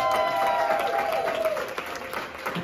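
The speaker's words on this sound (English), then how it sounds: "Round of applause." A crowd applauds an Impact Award winner at a leadership event and book launch, steady dense clapping filling the short stretch, with a faint sustained tone fading beneath.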